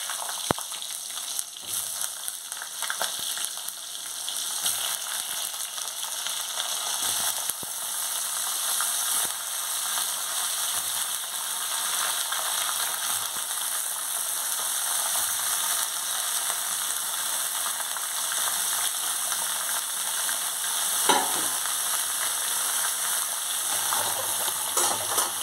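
Chopped vegetables sizzle steadily in hot oil with a dried red chilli, panch phoron and black cumin, a continuous near hiss with occasional stirring scrapes throughout.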